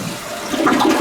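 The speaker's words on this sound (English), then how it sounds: "I'm going to hit the trip lever. Just make sure we have one solid flush." A toilet flushes after its Korkey flapper valve is replaced and the trip lever is pressed, a close, loud rush of swirling water that swells toward the end.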